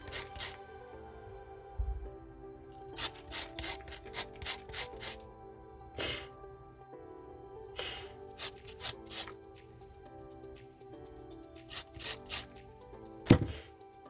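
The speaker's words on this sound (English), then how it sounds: "Then we're going to juice 2 limes, because you're going to need 2 tablespoons." Limes are squeezed by hand for a tequila lime chicken recipe, producing a close run of rhythmic rubbing and scraping strokes in irregular bursts, with a louder knock near the end.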